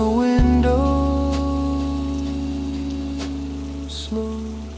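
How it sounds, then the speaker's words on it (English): Steady rain on a window patters softly throughout, mostly hidden beneath sustained, mellow jazz music that carries the whole stretch. "Rain slides down the window"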